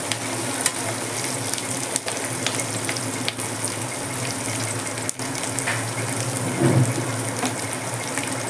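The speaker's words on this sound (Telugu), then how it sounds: "మిర్చి బాగా లైట్ గోల్డ్ కలర్ వేగాలి." Green chillies fry in a pan for mint chutney, a steady, close sizzle that stays even throughout with faint clicks and no speech.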